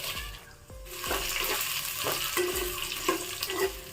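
Thirty dried red chillies, each cut in two, are fried in oil in a pan, making a steady close sizzle broken by several distinct stirring clanks and scrapes, with no voices.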